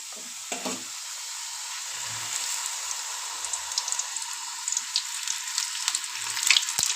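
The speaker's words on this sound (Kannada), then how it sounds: "ಈ ಥರ ಕರೆದ್ರೆ ತುಂಬ ಚೆನ್ನಾಗಿ ಬರುತ್ತೆ ಹಪ್ಪಳ" Papad, a thin wafer made from maida flour, fries in hot oil with a steady crackling sizzle and fine popping bursts that grow busier toward the end.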